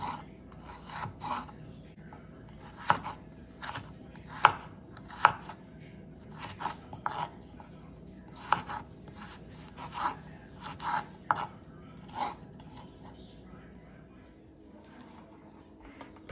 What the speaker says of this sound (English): Slice them up very thinly, just like the cucumber.